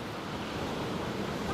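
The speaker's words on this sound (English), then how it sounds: "But then waves are really crashing." Rough sea waves crashing onto Southbourne Beach, a continuous loud broadband roar of surf mixed with wind noise and no clear breaks between waves.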